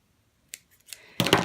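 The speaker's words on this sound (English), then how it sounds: "once you've cut him, you should have one long piece of fabric" Scissors snip through T-shirt fabric to make yarn: a few quick, close cuts after near silence, ending in a longer, louder cutting stroke.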